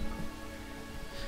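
Steady rain falls in a LEGO Lord of the Rings game town of Bree, a dense, even hiss of drops on surfaces that holds a constant level throughout with no voices over it.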